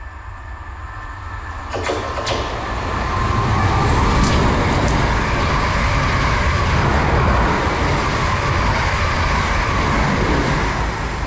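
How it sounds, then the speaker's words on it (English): A Class 444 train runs through a station toward London Waterloo, rising from a quieter platform into a loud, sustained roar with wheel and rail rumble and a few sharp clanks as the carriages pass close by. "there is a train coming through, which is a 444 to London Waterloo from Weymouth."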